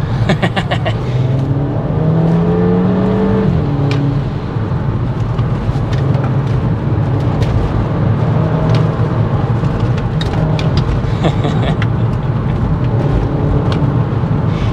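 A Mk5 Volkswagen Golf GTI engine revs and accelerates up through gears, loud and close, with rising pitch sweeps and brief shifts between pulls.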